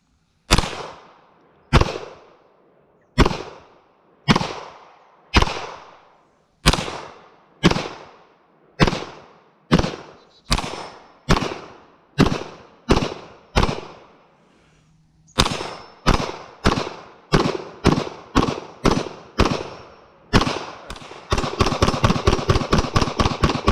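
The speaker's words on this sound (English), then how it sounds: "I love shooting this thing." A Kel Tec PMR 30 pistol fires a long string of sharp shots at a steady pace with slight pauses, then a rapid closing burst, each crack loud and close with a short ringing tail.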